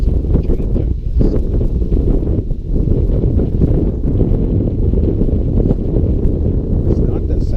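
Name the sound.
wind blowing on a boat deck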